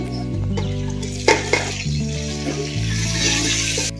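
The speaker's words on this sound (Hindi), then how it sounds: "तो अब मैं टमाटर ऐड करूँगी।" Tomatoes go into a pan of browned onions for bhindi in a home kitchen, followed by steady scraping and stirring with a utensil. A couple of sharp clinks of metal against the pan cut through the low sizzling, and no one speaks.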